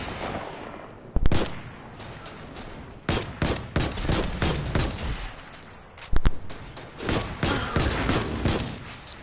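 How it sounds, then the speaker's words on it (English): A scout rifle fires full auto at 180 RPM in Destiny 2, loud booming shots in bursts with echoing tails and short gaps between volleys. "It's the scout rifle. So full auto 180 RPM. You know, it fires kind of fast"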